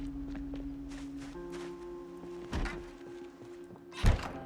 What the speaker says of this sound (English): The doors continue to open for Leroy